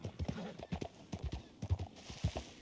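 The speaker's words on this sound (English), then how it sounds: "Look out, horse." Horse hooves clip-clop in a steady rhythm at close range, with some voice-like sounds mixed in over the beats.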